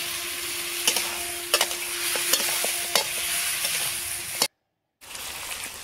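Broiler chicken pieces frying with salt and chopped tomato, a loud, steady close sizzle with sharp spatula scrapes and knocks against the pan, cutting off briefly before the hiss returns.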